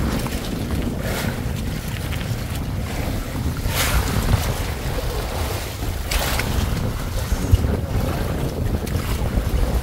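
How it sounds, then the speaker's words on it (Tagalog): Strong, gusty wind at sea during a sunrise handline fishing trip roars across the microphone over steady open-water noise, buffeting continuously with occasional louder blasts. "Pero ang hangin, grabe oh."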